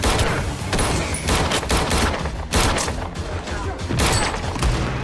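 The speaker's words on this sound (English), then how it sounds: "He shot that boy like John Wick" Gunfire in Red Dead Redemption 2 during a Wild West train robbery, a loud, dense run of shots and cracks repeating across several seconds with faint voices underneath.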